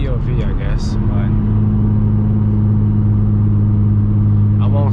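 Audi S4 B8.5 with a supercharger, AWE exhaust and test pipes cruising on open road, producing a steady, loud low engine drone with a whirring whine and some wind noise throughout.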